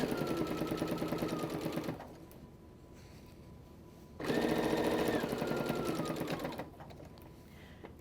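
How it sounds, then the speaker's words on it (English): Sewing machine stitching binding around a quilt, running in two bursts of rapid, steady stitching separated by a brief quiet pause, close and fairly loud. "Stitch your binding all the way around your quilt"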